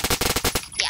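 Rapid automatic machine gun fire in the Roblox game Phantom Forces: a tight string of about eight loud, close bursts over one second, then a brief fading tail.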